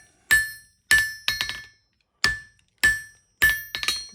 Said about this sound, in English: The part that I'm hammering on right now is the lower part of the jaw.